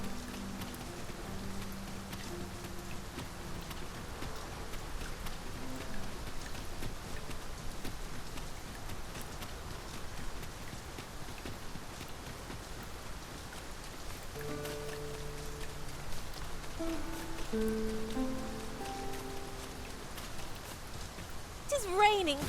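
Rain falls steadily in the video game Dragon's Dogma II, a soft continuous patter heard throughout while characters talk and faint tonal music plays over it.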